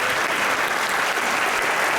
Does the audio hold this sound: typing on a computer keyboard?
no